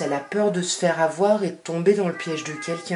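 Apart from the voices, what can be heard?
cat meowing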